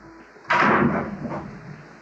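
Sliding pantry doors in a kitchen glide open with one soft rolling rumble that swells and trails off over about a second and a half, with no talk.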